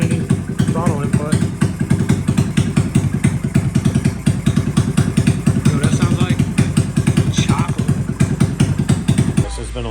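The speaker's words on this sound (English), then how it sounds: "that's idling without any throttle input" A Honda Grom motorcycle engine idles with no throttle input, its rapid even put-put firing close and loud with a slight mechanical clatter, steady throughout before cutting off at the very end, while a person talks over it.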